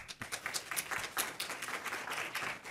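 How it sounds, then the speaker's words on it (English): A moderately sized audience welcomes a chef at a healthy holiday cooking event with close, crisp clapping whose individual hand claps stand out throughout. "So everyone, please give him a warm round of applause."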